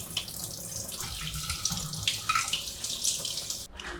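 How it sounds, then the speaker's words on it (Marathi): Amla gooseberries are rinsed under a running kitchen tap, a steady close splash of water hitting fruit and sink that cuts off abruptly near the end. Nobody speaks. "आवळे पाण्याखाली स्वच्छ आपण धुवून घेऊयात."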